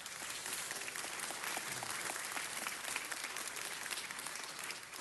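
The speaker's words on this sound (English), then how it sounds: "Give them a big round of applause." A city council meeting audience applauds, a dense, sustained wash of many hands clapping at moderate level, continuing steadily without pause or voices.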